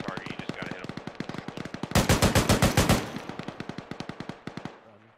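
Machine gun fire in ArmA 3 rattles in fast, continuous bursts, one stretch louder and nearer than the rest, with a faint voice underneath.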